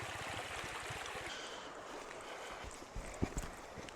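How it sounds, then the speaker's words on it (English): Water pours into a container being filled for a hanging gravity filter system, making a steady rushing gurgle that softens over a few seconds, with a few close knocks and bumps near the end. "I'm gonna take this and I'm gonna fill it full of water"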